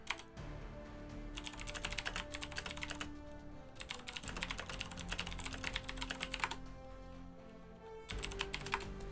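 Rapid bursts of clicking keystrokes on a computer keyboard as a room password is entered, steady and fairly close, with short pauses between runs and continuous background game music underneath.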